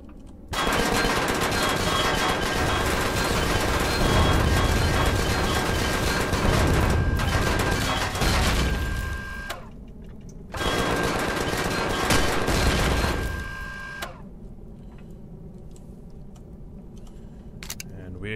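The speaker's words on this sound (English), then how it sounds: "We found the core, we're shooting some more." Sustained, rapid gunfire in the Empyrion space survival game, aimed at the core of an oxygen depot. Loud, dense automatic bursts run for about nine seconds, pause briefly, resume for a few seconds, then fade to a quieter background.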